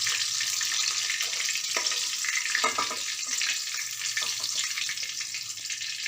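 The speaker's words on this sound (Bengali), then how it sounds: "বাকিগুলো আমি একইভাবেই ভেজে তুলে নেব।" Chicken pieces fry in oil with a dense, continuous hiss and bubbling crackle, close and steady, and a few soft knocks and stirring sounds come through in the middle.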